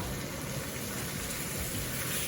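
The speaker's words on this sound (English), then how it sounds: "I'm going to fill this tin with water. Throw that in as well." A 400 gram tin of water is poured into a cooking pan holding chopped tomatoes for a chicken tikka masala sauce, a close, continuous gushing pour throughout.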